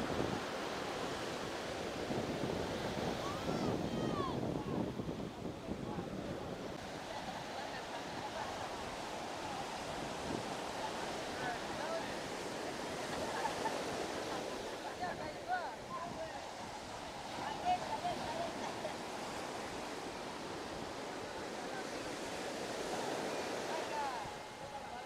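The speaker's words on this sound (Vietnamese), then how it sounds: "sóng rất lớn" Large ocean waves break on the beach of an African fishing village, a continuous heavy roar and rush of surf mixed with wind noise, with voices faint underneath.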